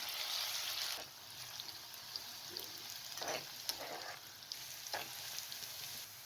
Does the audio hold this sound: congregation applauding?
no